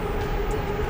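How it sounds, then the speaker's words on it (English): A Bangkok Skytrain rolls past at night with a loud, steady rumbling roar and a sustained tonal whine, close by and filling the whole moment without speech. "And another sky train passing."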